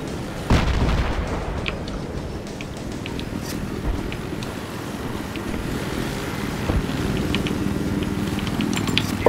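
Gunfire and booms aimed at a scout helicopter in a video game, with a steady rotor-and-engine rumble underneath and scattered sharp shots and a few louder impacts throughout, fairly dense and continuous.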